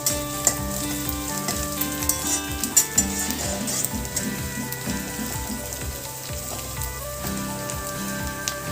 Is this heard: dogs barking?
no